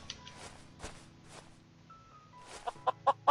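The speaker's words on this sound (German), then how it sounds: "guck mal, hier sind die Hühner wieder." Chickens cluck in the video game Minecraft, a few short soft clucks that grow louder toward the end over a faint ambient background, with no talking.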